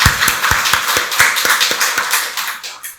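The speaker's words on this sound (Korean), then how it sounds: "박수로 하나님께 영광 돌리겠습니다." A church congregation claps together during Sunday worship, a steady run of even, fairly quick claps that keeps going and then thins out toward the end.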